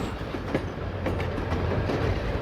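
A 1963 Royal Mail train running on the Glasgow to London line gives a steady, loud rumble with rhythmic clickety-clack of wheels over the rail joints.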